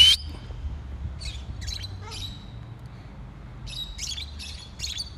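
Bright conure parrot whistles and squawky calls come in short bursts, one at the start then a pause, followed by answering calls, over quiet outdoor background.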